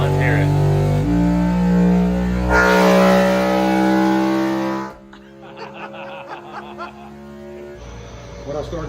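A Richard Childress Racing race car engine rumbles and revs loudly at a shop, a steady roaring tone under chatter and laughter, then the sound drops away to quieter, choppy engine pulses.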